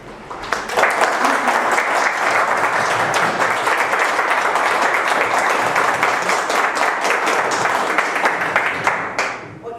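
Sustained, loud applause from a conference audience closing a question-and-answer session, dense clapping running nearly ten seconds before tapering off at the end.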